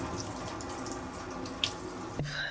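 Water runs steadily from a newly installed Temu kitchen faucet into a sink, a continuous close splashing stream with a faint clunk near the end, no talk.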